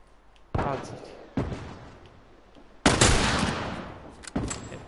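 Gunfire in The Last of Us video game: four loud, sharp shots at irregular intervals, each with a decaying echo, over a quiet background.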